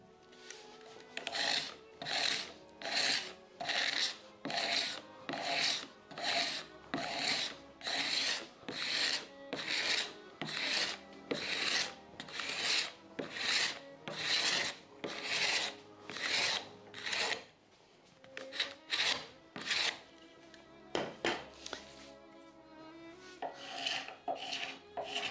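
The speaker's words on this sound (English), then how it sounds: "First with this card scraper." Card scraper drawn over a wooden door to strip old paint, producing a long run of regular rasping strokes, close and steady, roughly one per second, then a few irregular scrapes and knocks at the end.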